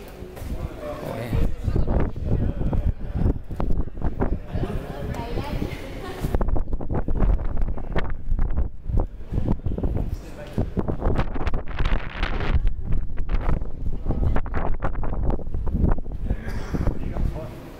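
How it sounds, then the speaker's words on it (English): Wind blows hard at the top of a tower, gusty buffeting roar on the microphone that rises and falls, with people talking over it. "Oh, it looks windy."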